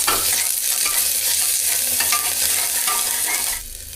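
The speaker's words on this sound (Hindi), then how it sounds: "अब डाल देता हूँ प्याज, ताकि ये अच्छी तरह से फ्राई हो जाए इसके अंदर।" Onions frying in hot oil inside a pressure cooker give a steady, close sizzle with stirring scrapes throughout, easing off slightly near the end.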